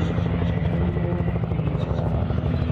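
Military combat helicopter in a NATO amphibious assault exercise on the Norwegian coast, its steady rotor chop and engine drone loud and continuous throughout.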